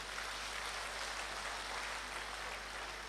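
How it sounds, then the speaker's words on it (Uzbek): A concert audience applauds with a steady, even wash of clapping that holds at constant level for a few seconds, moderately distant and with no talk over it. "Olmaxon opamga bitta chiroyli qarsaklar chalinglar"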